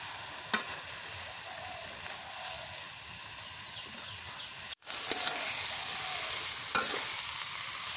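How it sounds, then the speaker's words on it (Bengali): Small fish and prawns cooked down in a pan, then water and tomato added and stirred. A steady sizzle with scraping strokes breaks off briefly midway and returns as a louder, brighter hiss. "মাছ কষানো হয়ে গেছে, এখন পানি টমেটো দিয়ে দিই।"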